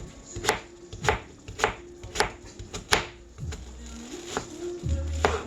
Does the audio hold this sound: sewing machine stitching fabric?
no